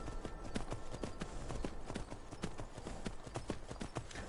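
Horse hooves clip-clop in a steady, even rhythm in Skyrim, a continuous run of sharp, close strikes on the ground with no voices.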